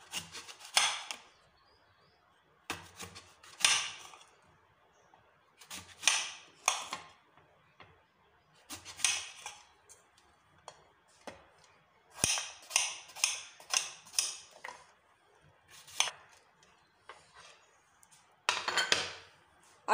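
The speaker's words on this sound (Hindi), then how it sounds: "अब सेब काट लेंगे।" A knife slices through a firm apple in repeated crisp bursts, scraping against a cutting board with short pauses between cuts.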